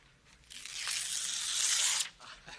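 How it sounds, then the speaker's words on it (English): A page is ripped out of a book in one sustained tearing sound lasting about a second and a half, close and distinct against quiet surroundings. "Rip out the entire page."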